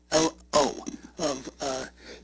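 A man at a town planning and zoning meeting coughs and clears his throat in four short, harsh bursts, close and fairly loud, with brief pauses between them.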